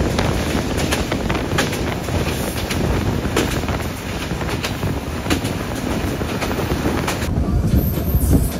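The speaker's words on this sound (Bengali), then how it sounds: "আমাদের আন্তনগর চিত্রা এক্সপ্রেস এই মুহূর্তে প্রবেশ করছে দর্শনা হল্ট স্টেশনে" The Chitra Express intercity train runs on rails in Bangladesh, with a loud, continuous rumble of wheels and carriages mixed with rushing wind noise from start to finish.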